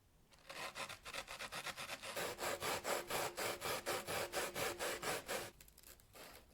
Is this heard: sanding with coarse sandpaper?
yes